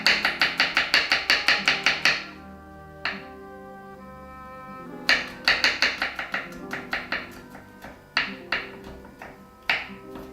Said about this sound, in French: Émincer l'ail.